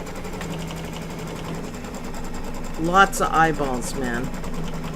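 An embroidery machine stitches an applique wall hanging, a steady rapid mechanical hum running throughout, while a voice speaks briefly over it near the end.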